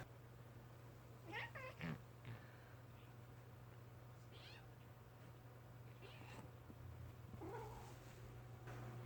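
A kitten and an adult cat play and tumble indoors, giving out a few faint meows and chirps over a quiet steady hum, with soft scuffling between calls.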